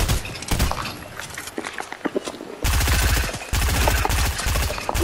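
Rapid SMG bursts in a Fortnite-style video game fight, loud and close, with sharp volleys starting and stopping and a dense sustained burst in the second half, with scattered smaller impacts between.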